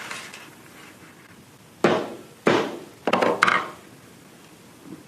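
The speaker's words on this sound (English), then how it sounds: "hammering the insertion tube caused no damage whatsoever" A hammer strikes an endoscope insertion tube four times in quick succession, giving sharp, close, hard knocks with a short ringing tail.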